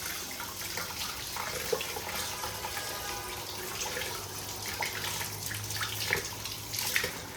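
Shrimp and bata fish are rinsed under running tap water, a steady close splash with scattered small clatters and no talking.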